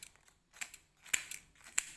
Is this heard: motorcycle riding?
no